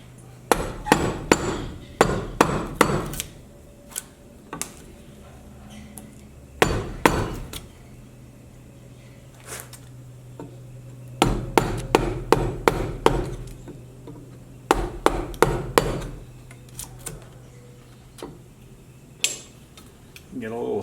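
Sharp wooden knocks of a mallet driving a large gouge into a wood carving come in quick bursts of several blows separated by pauses, close and fairly loud, with a steady low hum underneath.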